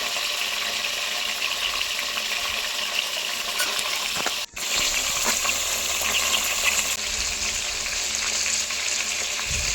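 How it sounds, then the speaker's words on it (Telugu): Brinjal pieces fry in hot oil for a Telugu onion-chilli brinjal dish, giving a steady close sizzle with continuous crackle; it drops out briefly near the middle, then resumes. "ఇలా ఆయిల్లో వేసుకున్న వంకాయలన్నిటినీ ఫ్రై చేస్తూ"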